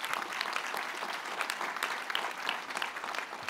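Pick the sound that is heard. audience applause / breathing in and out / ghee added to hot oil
audience applause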